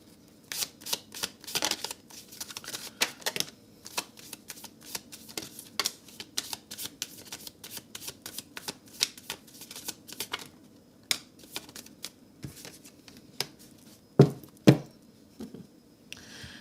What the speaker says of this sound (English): Let me get some more cards too, just to make sure I got the whole message here.